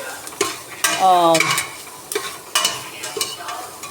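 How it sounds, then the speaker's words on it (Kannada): Grated coconut, garlic and ginger frying over a low flame in a pan while making pongal, heard as a steady soft sizzle broken by several short scraping stirs of a utensil against the pan, close and moderately loud, with no talk. "ಅದು ಕೊಬ್ಬರಿ ಮತ್ತು ಬೆಳ್ಳುಳ್ಳಿ ಶುಂಠಿ, ಅದನ್ನು ಇವಾಗ ಹಾಕ್ತಾಯಿದ್ದೀನಿ. ಹಾಕಿದ್ದೀನಿ ಲೋ ಫ್ಲೇಮಲ್ಲಿ."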